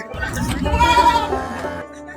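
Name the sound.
cow bellowing at a cattle market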